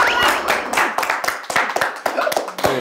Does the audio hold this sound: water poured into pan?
no